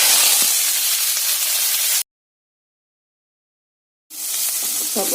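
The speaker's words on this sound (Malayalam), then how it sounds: "ചിക്കൻ കറിക്കുള്ള സബോളയൊക്കെ വഴറ്റും" Onions sautéing in a pan for chicken curry give a loud, steady sizzle and hiss for about two seconds, then cut to silence before the frying sizzle returns.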